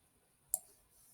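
A computer mouse button gives one quick, crisp click, close and faint, against a near-silent background with no talking.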